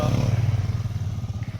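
Two 400cc motorcycles, a Bajaj Pulsar NS 400 and a Dominar 400, ride in a race, their engines giving a loud, close, steady throbbing rumble that holds throughout without a break.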